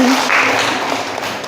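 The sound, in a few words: applause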